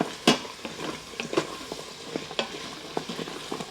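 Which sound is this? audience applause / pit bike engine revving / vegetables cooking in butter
vegetables cooking in butter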